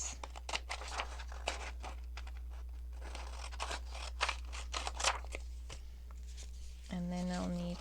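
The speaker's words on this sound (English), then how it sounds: "I'm going to cut it like this." Scissors cut paper for a junk journal triple pocket envelope, a close, fast run of crisp snips and rustles over a steady low hum, ending in a brief tonal whine.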